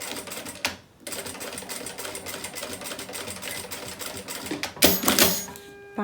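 Sewing machine stitching a seam along the edge of a plastic canvas beach bag, a steady rapid mechanical chatter with a brief pause near the start and a sharper whirring burst toward the end.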